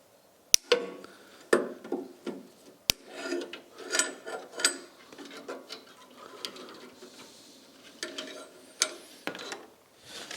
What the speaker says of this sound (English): So let's remove the brake line.